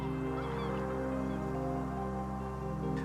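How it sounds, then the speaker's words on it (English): Wetland birds call steadily in the Valle di Comacchio reserve in Italy, a reed-fringed habitat of flamingos, egrets and herons, with goose-like honking over a constant hum, fairly distant and with no voices. "300 bird species like flamingos, egrets and heron enjoy these waters,"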